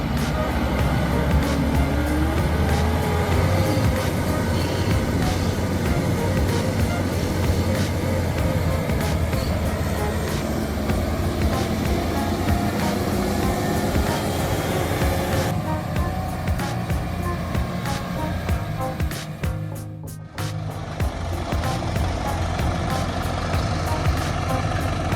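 Two tractors run their engines hard while trying to pull a stuck New Holland and a melon truck out of a muddy swamp, producing a loud, continuous straining roar throughout with a brief dip near the end.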